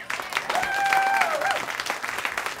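Audience applause and cheering at a live blues show in a Chicago club, welcoming a female singer to the stage; steady clapping with a brief whistle or shout rising over it.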